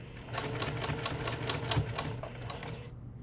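A sewing machine back stitching a tote bag runs in a steady, rapid mechanical whir with a rhythmic needle clatter, close and continuous for about three seconds before stopping.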